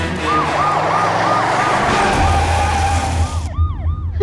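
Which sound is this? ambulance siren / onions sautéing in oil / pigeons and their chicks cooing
ambulance siren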